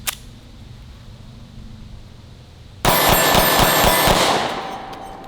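Rapid pistol fire at steel targets on an outdoor range, a fast burst of about eight sharp shots with ringing metallic clangs, loud and close, trailing off into a fading ring.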